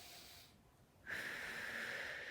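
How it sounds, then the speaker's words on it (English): A big, deep breath taken during a lower-body mobility stretch, a soft airy rush that pauses briefly and then swells into a louder, steady hissing exhale, close to the mic with no talking. "I'm doing a big deep breath into here"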